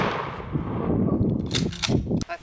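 A shotgun slug fired into a block of compacted snow outdoors: one sharp, loud blast near the start, then a few shorter cracks and clanks, with no talk.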